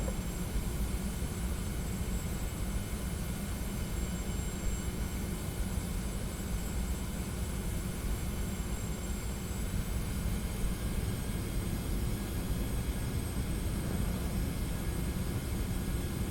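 Boeing 717 jet engines hum in a steady, continuous broadband roar during a night climb out of Innsbruck in a flight simulator, loud and unbroken with no talk.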